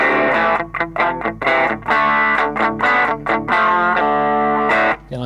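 Electric guitar played through a Zoom G2.1NU multi-effects pedal on its Fender Twin Reverb amp model with the booster engaged, giving a loud, slightly driven tone. Chords and notes are struck in a steady rhythm, with no talking.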